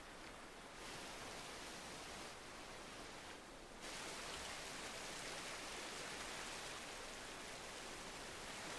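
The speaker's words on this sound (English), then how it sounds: "You know, let's do waterfall." A steady, broadband rush of falling water from a waterfall effect in Planet Coaster 2, a dense even hiss that swells slightly louder partway through and continues without talk.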